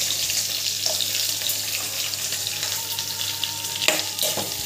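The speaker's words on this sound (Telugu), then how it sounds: "పచ్చిమిర్చి వేసుకున్నానండి. కరివేపాకు కూడా వేసుకున్నాను. ఇవి కొంచెం వేగాలి." Green chillies, curry leaves and onions frying in oil, a close, steady hiss of sizzling with occasional spoon taps and a brief scrape near the end.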